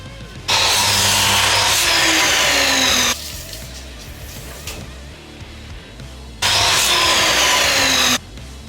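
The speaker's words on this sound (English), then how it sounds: "So first just getting my measurements all right and making some initial cuts." Old reclaimed hardwood studs cut for door frames with a power saw, two loud sustained cuts of about three seconds each separated by a quieter stretch of workshop noise.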